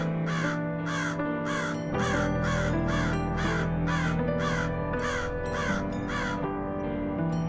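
A cartoon crow caws loudly and repeatedly in an even, insistent rhythm, about a dozen harsh calls in a row, close and alone without talk.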